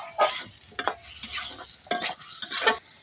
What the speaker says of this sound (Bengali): এবার এর মধ্যে সেদ্ধ করা আলুগুলো দিয়ে দেবো, দিয়ে নাড়াচাড়া দিয়ে নেবো।